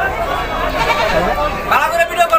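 Goats bleating at a busy livestock market in Ashulia held ahead of the Qurbani Eid, with calls rising over steady crowd babble and someone talking close by.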